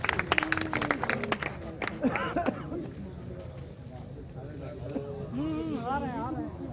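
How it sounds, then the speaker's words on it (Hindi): Audience clapping to welcome guests onto the stage at a community family gathering, a burst of sharp claps at the start that thins out quickly, followed by scattered chatter and a voice speaking. "तालियों के साथ भाई"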